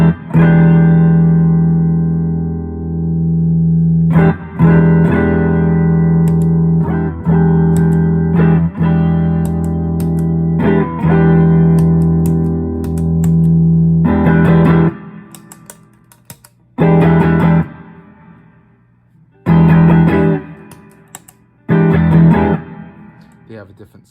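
An electric guitar runs through Kingsley tube pedals, sustained chords ringing long and full at first, then cut into shorter, choppier strummed bursts separated by gaps, played close and loud.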